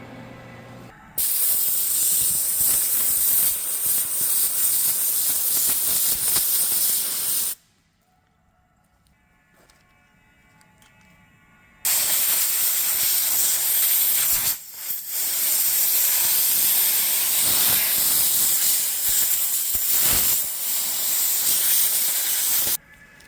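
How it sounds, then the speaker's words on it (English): Welding a chain tensioner solid on a motorized bike: a loud, steady crackling hiss runs for several seconds, stops for a few seconds of near silence, then resumes as a second long, sustained bead. "weld this tensioner solid, because as long as that doesn't move, this chain tension will be perfect forever"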